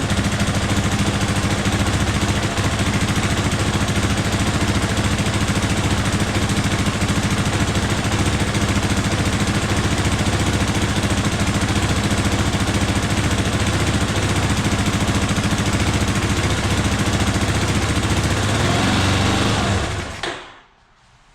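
A Yamaha Raptor 350 ATV engine runs loud and steady, a dense, constant roar close by, then abruptly cuts off near the end as it is shut down.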